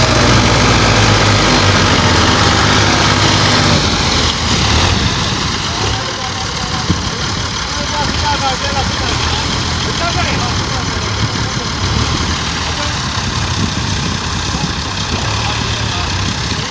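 Tractor engine labouring hard while trying to pull a stuck wooden trolley out of a rut, a loud continuous low rumble that stays steady throughout, with talk over it.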